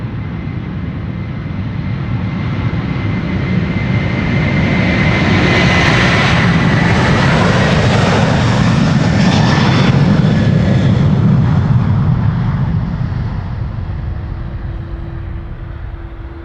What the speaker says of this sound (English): 537 to Kigali, and that's in A330-200